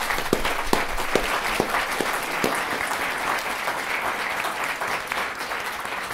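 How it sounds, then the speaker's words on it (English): An audience at a public policy debate final claps steadily in sustained applause for judges and moderators, a dense wash of many hands with a few sharper claps standing out near the start. "please a round of applause for our judges and moderators"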